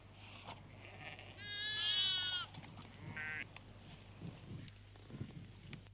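A sheep bleats once, a long wavering cry at a moderate distance, followed by a shorter call over steady farm background hum and faint rustling, in a California sheep-herding setting.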